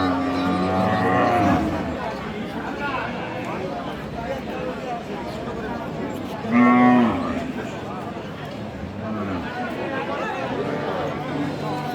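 A Sahiwal cow with her calf moos loudly two or three times at the Aftabganj cattle market in Dinajpur, amid steady crowd chatter and nearby voices.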